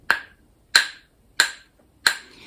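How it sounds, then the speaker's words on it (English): Wooden rhythm sticks tapped together four times in an even, steady beat, each tap a sharp, bright, close click that decays quickly into silence. "we're going to make a little tapping sound"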